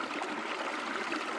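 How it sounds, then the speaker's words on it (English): Steady, continuous rush of flowing stream water from a DroneLab Pro ambient soundscape app on iPad, an even broadband trickle and babble filling the whole span at moderate level with no voices. "We've got a stream,"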